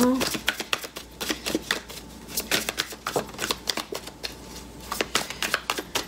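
Oracle cards are shuffled during a card reading, making rapid, close riffling slaps and flicks in an uneven rhythm, with a voice present at times.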